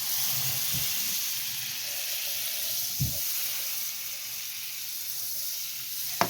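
A stick of butter melts over low heat in a pan still holding pork juices, giving a soft steady sizzle and hiss with a few faint taps and clinks, close by and without talking.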